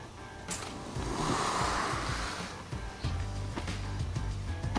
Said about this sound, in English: We have a big blower up front.